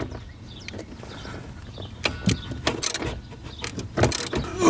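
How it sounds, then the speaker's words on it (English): A wrench works loose bolts under the steering column of an SR20-swapped Nissan 240SX, giving scattered metallic clicks, ratchet ticks and clanks that grow busier and louder toward the end. "I'm just gonna loosen the bolts on the bottom of the steering column"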